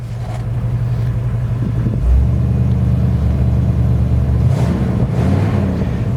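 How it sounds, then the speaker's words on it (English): A 1977 Ford Bronco's 302 V-8 with an automatic transmission runs smoothly close by, a steady low rumble with a slight rise in revs near the start and again toward the end. "The motor runs smooth."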